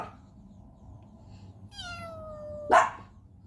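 An abandoned kitten gives a single drawn-out meow sliding downward over about a second, followed by a brief sharper cry, against a low steady background rumble.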